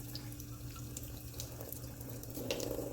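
A tap runs steadily into a sink while etched glass is rinsed under it, a continuous close splashing with faint clinks and no voices.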